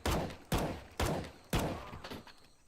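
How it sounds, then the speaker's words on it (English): Four evenly spaced, loud rifle shots from an A4 rifle in CS:GO, fired at point blank, each a sharp crack about half a second apart with short echoing tails, alone with no talk. "this is 5 shots to the body with the A4"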